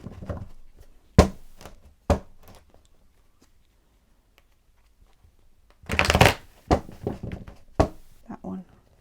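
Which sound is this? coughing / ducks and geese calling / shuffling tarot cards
shuffling tarot cards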